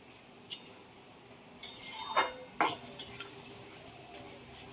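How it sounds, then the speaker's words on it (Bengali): A spatula scrapes and clinks against a pan as food is stirred and sautéed. The strokes are short and sharp, separated by a soft background hiss, with a busier run of scraping in the middle and no talking. "দিয়ে এটাকে আমি সুন্দর করে একটু কষাবো"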